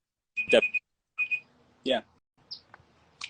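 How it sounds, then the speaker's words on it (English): A small timer gives a few short, clear electronic beeps, spaced apart and fairly close, amid a quiet room. "That's just a little timer telling us we're at 7 minutes"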